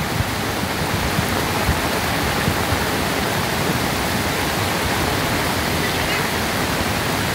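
A raging, swollen river on the verge of overflowing roars as a dense, continuous wash of rushing water, loud and steady throughout with no break.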